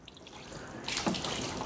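Water pours from a can or tap onto a small bonsai tree in its pot, a short splashing trickle that starts partway in and runs steadily to the end, fairly close and moderately loud.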